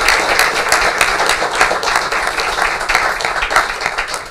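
A township council meeting audience gives a big round of applause for a professional football player with the Pittsburgh Steelers, lively uneven clapping with distinct individual claps, strong and continuous.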